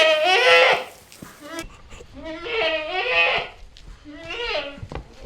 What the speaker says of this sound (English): You're a cute little goat.